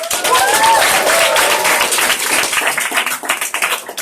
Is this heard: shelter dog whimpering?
no